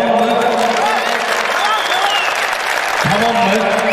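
An audience claps continuously at a Turkish folk music concert in Antalya, with a voice talking over the steady applause.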